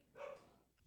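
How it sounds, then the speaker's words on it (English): Neighbors' dogs barking from across the street and down the lane, heard as a single faint, distant bark in a quiet setting. "sorry if you can hear our dogs barking."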